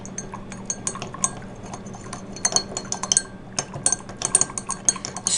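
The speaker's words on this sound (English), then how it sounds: "Now I'm going to take my stirring rod and I'm going to stir it in." A stirring rod swirls syrup into a solution in a glass container, giving quick clinks and taps in irregular bursts, close and fairly quiet with no talking.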